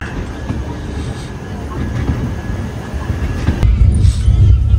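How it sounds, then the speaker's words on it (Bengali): A train pulls away from Singapore Road station, a steady broad rumble of wheels and engine that swells louder toward the end, heard close and alone. "ট্রেন ছেড়ে দিল সিঙ্গাপুর রোড স্টেশন থেকে"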